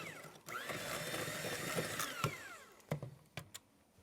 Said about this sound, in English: So we'll beat in these egg yolks